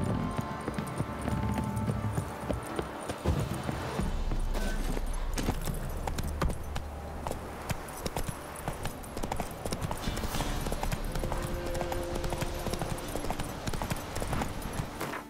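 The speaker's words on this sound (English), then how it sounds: "There's me horse." Horse hooves clip-clopping in The Witcher 3 video game, a steady rhythmic trot of hoofbeats heard alone at moderate volume with game ambience behind it.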